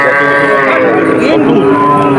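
A calf at the Betaga cattle market calls over the dense crowd noise of the livestock trading ground, with people talking nearby throughout and other animals bleating and lowing.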